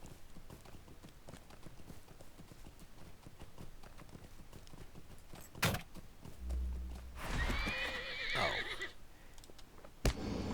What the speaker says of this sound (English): nice strong horse we got there